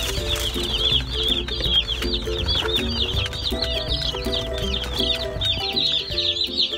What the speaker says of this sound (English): All these cute little yellow chicks.